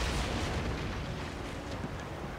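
Ship cannons firing in Assassin's Creed Origins, a dense, continuous roar of booming blasts and rumble, loud and close, with no voices.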